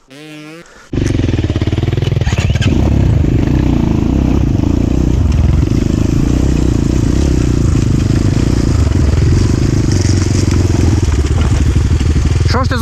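A Rottor F1 enduro motorcycle is ridden in a steady loud run, its engine droning near with rattles and clatter over the road.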